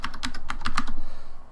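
Someone types a short file name on a computer keyboard while using GS/OS on an Apple IIGS, a rapid run of close, distinct key clicks of roughly a dozen strokes, with no talking.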